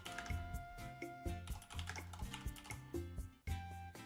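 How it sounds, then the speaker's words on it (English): Rapid keystrokes clatter on a mechanical keyboard, close and crisp, in irregular bursts with brief pauses between runs of typing. "I got that mechanical keyboard."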